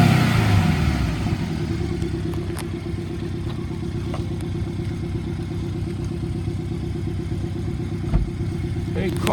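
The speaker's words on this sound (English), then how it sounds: "you'll get an idea of what the car sounds like" A 2017 Porsche 718 Cayman engine running steadily at a dealership, a continuous mid-pitched hum with some clattery texture and occasional clicks, heard fairly close for several seconds.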